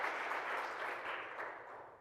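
Conference audience at a women-in-industry summit breaking into applause, a dense, fairly distant wash of many hands clapping that holds steady and then gradually fades.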